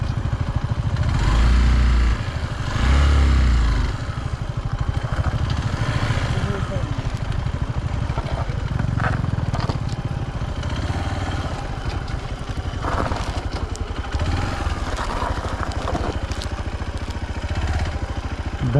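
A motorcycle engine labours and sputters in first gear on a mountain route toward Kailash Mansarovar, a rough close clattering drone that swells and drops, with people talking over it.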